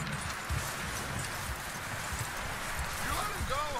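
Horse hooves clip-clop steadily on a hard surface under a continuous bed of Red Dead Redemption 2 game ambience, with a faint neigh-like tone near the end, as a horse is led to a hitching post.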